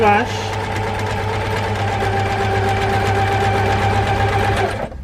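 A sewing machine stitches a sawtooth star quilt block in one continuous close run with a fast, steady whir that cuts off at the end, while a person talks over it.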